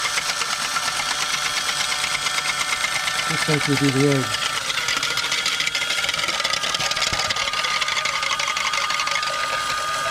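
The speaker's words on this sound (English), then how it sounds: "I don't have a blender, so" A cordless drill whisks Esbilac puppy formula milk replacer, giving a steady, close motor whir that runs unbroken throughout while a person talks over it.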